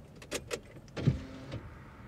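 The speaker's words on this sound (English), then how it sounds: "Let's see if I can unroll my window." A car's electric window motor whirs briefly as the glass is lowered, a short close mechanical hum with a few clicks and thumps around it, no talking.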